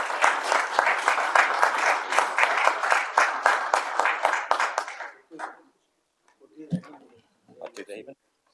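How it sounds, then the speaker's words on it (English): An audience at a council inaugural meeting gives the organisers a burst of loud, dense clapping for about five seconds, then it stops abruptly, leaving a few faint knocks and murmurs. "So just a round of applause, please."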